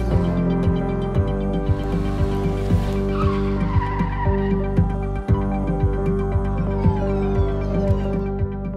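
Race car at the Pikes Peak hill climb, its engine droning loud and close with repeated tire squeals and skidding chirps over nearly nine seconds.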